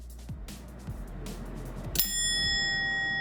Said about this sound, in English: I tried a fancy wooden bass Pomodoro timer with a mechanical chime